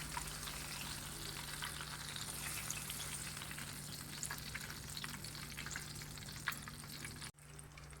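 Chicken fingers frying in hot oil give a steady, close sizzle with crackling pops throughout, cutting off abruptly near the end and leaving a low hum.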